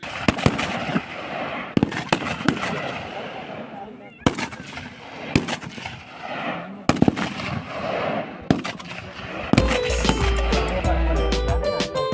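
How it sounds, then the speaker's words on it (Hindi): Repeated sharp gunshots crack out at irregular intervals at a police training school shooting range, loud and echoing, with a steady mechanical drone rising near the end. "यहाँ पर गोली चल रही हैं, आप सामने आपको आवाज़ आ रही होगी।"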